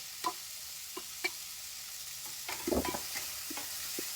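Green chillies and whole garlic cloves fry in a pan, giving a faint steady sizzle broken by a few scattered scraping stirs and a short clatter of tossing midway, with no talking.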